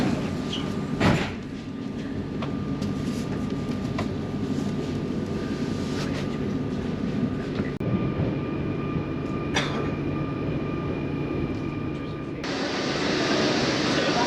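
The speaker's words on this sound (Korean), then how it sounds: "여러분, 베르사유를 가는 기차에 탔습니다." A commuter train to Versailles rumbles and rattles steadily from inside the carriage, with faint clunks, a brief louder jolt near the start, and a shift in tone near the end.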